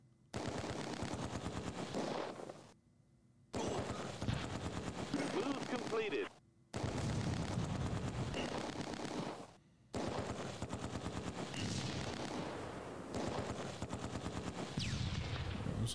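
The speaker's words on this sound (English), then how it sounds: "Someone's shooting at this Panzer Shrek." Machine-gun bursts and rifle fire from the Close Combat 2 battle around Arnhem Bridge, loud sustained rattling volleys broken by short pauses, with someone talking over the shooting.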